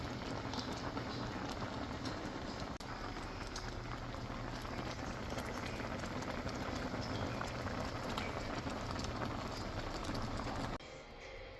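Sinigang-style shrimp broth with broccoli boils steadily in a pot, a dense, continuous bubbling and sizzling hiss that stays loud and even throughout, with no talk over it.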